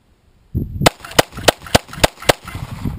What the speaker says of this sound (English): 25 yards, pretty simple shot.